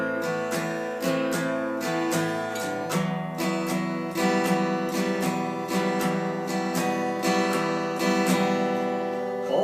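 Guitar strummed steadily in a rhythmic pattern, full chords ringing with regular accented strokes at moderate loudness, with no voices.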